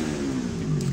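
A motorcycle engine revs steadily close by, a sustained throaty drone holding a fairly even pitch for about a second with a slight rise near the end.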